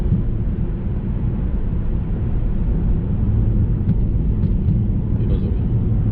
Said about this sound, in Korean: 노면이 고르지 못한 길을 가게 되면은 지금 하체에서 약간 조금 거슬리는 소리가 납니다